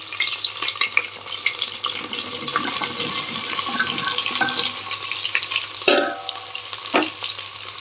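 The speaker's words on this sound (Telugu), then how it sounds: "బెండకాయలు వేసుకుని వేద్దాం మంచిగా చిట్టపట్లాడుతున్నాయి" Okra pieces frying in hot oil give a steady, close crackling sizzle that runs throughout, with a brief stirring clatter near the end and no talk.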